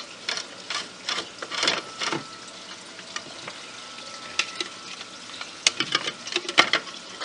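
Granular ferric oxide media, rinsed beforehand, pours into a reef tank media container as a gritty, crackling rattle of falling granules that comes in uneven bursts, some louder and closer than others.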